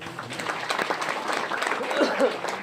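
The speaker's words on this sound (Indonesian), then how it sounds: "Tepuk tangan buat Tuhan Yesus ya." A church congregation at a Sunday service breaks into applause: a close, full round of clapping that holds steady for a few seconds, with voices mixed in among the claps.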